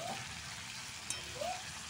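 Chicken and potato masala sautéing in a pan gives a faint, steady sizzle with a soft hiss and occasional light stirring, with no voices over it.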